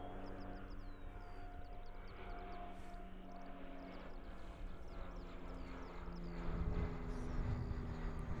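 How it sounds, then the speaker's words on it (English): A Dash 8 airplane takes off in a crosswind at Christchurch Airport, New Zealand. Its engines give a faint, distant, steady drone that swells slightly toward the end, with soft background noise around it. "Early rotation and a definite bit of a crosswind as it lifted off there too."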